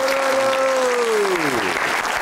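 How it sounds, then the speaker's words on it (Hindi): An audience claps for the dhol player at a poetry gathering, dense applause that continues throughout while a sustained sung or held vocal tone glides downward over it. "पहले सारे तालियां बजाइए हमारे जो ढोल पे बैठे हुए हैं शान"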